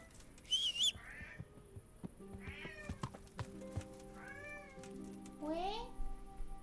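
A sick pet cat meows several times in close, distinct, rising and falling calls spaced across a few seconds, with quiet human talk in between.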